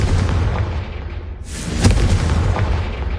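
A game blasting spell, Confringo, goes off as a deep booming explosion, with a sharp burst followed by a rumbling, noisy tail in a loud game soundscape.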